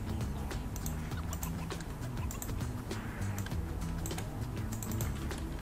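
Keys on a computer keyboard being typed in a quick, irregular patter of soft clicks, faint and continuous throughout.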